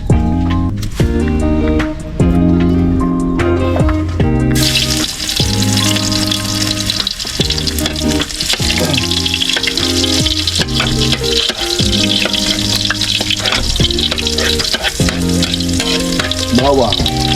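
Garlic and onion fry in a wok over a fire, a loud, close sizzle with stirring scrapes, heard alongside steady background music with a strong beat throughout.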